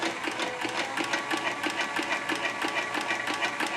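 Artisan Toro 3200 sewing machine motor running steadily while winding a bobbin, a close, continuous mechanical whir with a fast regular ticking pulse, heard alone without talk.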